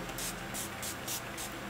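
Too Faced Hangover setting spray is pumped in several quick, soft hissing bursts of fine mist, evenly spaced and fairly faint over a low background hum.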